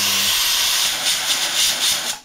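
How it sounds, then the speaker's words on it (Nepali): A kitchen pressure cooker lets out a loud, steady hissing whistle that holds for about two seconds before cutting off abruptly, with no talk over it. "अर्को सिटी पनि बज्न आँट्यो"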